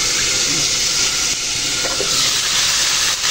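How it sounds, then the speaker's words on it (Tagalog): Ulam, a Filipino viand, frying in a pan, giving a steady bright sizzle and crackle of hot oil that runs throughout with a few louder spatters. "Magprito na tayo ng ulam"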